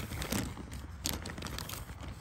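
Continuous crinkling and rustling of plastic close up, with irregular crackles and small bursts throughout.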